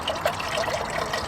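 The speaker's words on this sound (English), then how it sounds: "Some beef broth concentrate. I have to add some water to that." Water trickles and splashes steadily into beef broth concentrate for a meatball stew at a highway-median campsite, a close, continuous pour with no voices.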